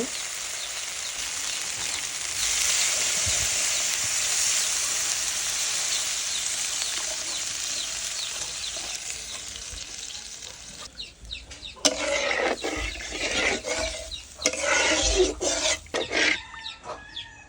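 Steady sizzle of a pan of frying rohu fish curry masala, then a sharp burst of crackling and bubbling as gravy liquid is poured in, spitting unevenly and loud near the end.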